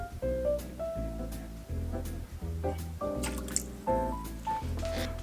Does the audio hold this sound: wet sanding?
no